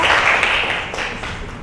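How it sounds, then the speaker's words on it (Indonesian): Applause and clapping from a classroom audience for a student group that just finished presenting, a dense burst of claps that fades over about a second and a half. "Tepuk tangan untuk kelompok 2 yang sudah presentasi ya"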